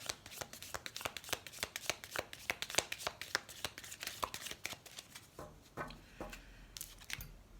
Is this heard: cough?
no